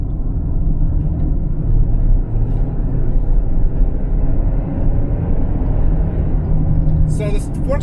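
2021 Ford Explorer Limited 4WD driving in sport mode, a continuous low engine and road rumble from inside the cabin that holds steady throughout, with a brief higher chirp right at the end.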